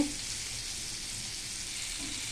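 Palm fruit fritters (taler bora) frying in hot oil, a steady, even sizzle filling the whole stretch with no pauses and no voices.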